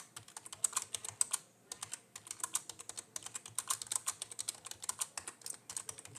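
Rapid, uneven keystrokes on a computer keyboard clatter close by in steady bursts, with a brief pause near the start and no talking.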